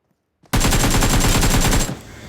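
A rapid burst of automatic gunfire shooting enemies in the video game BGMI starts abruptly after brief silence and rattles loud and close for about a second and a half before cutting off.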